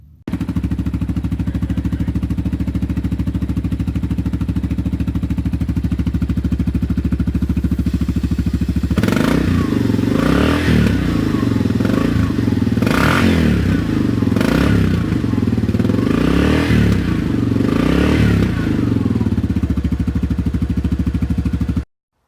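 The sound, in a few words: vehicle engine fired up to test CVT air blow-out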